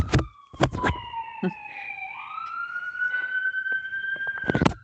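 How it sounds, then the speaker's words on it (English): A wailing siren sounds steadily in the background of a historic preservation council meeting, its tone sliding slowly, while a person speaks intermittently over it in the foreground. "Sorry about the sirens in the background."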